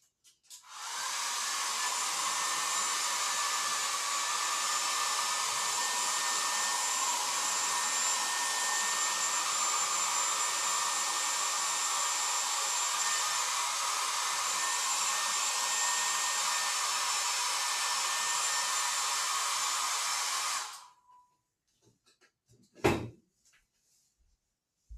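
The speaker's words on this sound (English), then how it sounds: "I'm going to go hit it with my hair dryer" A hair dryer blows with a steady, loud whoosh for about twenty seconds, then cuts off, followed by a brief clatter as it is set down.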